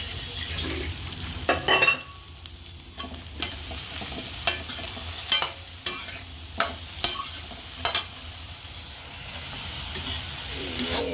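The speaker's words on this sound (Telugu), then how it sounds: "జీలంతా పోయేంత వరకు ఫ్రై చేస్తామండి." Ingredients for mint rice fry and get stirred in a pan under a constant sizzle, with about ten regular scrapes and clacks of the spoon against the pan close by, and no talk.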